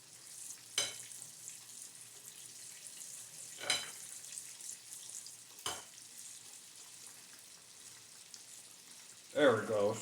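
Salmon fillets fry in a pan with a soft, steady sizzle, broken by a few sharp crackling bursts and a louder spatter near the end, fairly faint and close.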